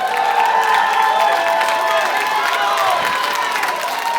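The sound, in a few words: crowd cheering at wrestling show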